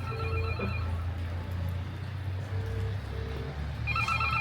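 A public telephone box in Spain rings with repeated electronic bell tones, fairly loud and near, over steady low traffic or engine rumble.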